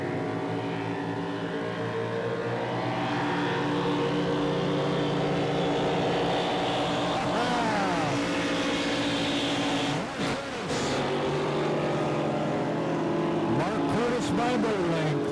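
A powerful racing engine of a Cracker Box race boat drones and revs steadily at a distance during a qualifier race, its pitch rising and falling as it climbs through the gears, with a voice talking over it.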